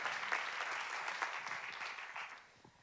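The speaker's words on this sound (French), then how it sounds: "Vous pouvez à nouveau applaudir Sonia Latoui et Nour" Festival audience at the closing ceremony of the Gérardmer Fantastic Film Festival 2025 applauds steadily in a dense, sustained patter that fades slightly near the end.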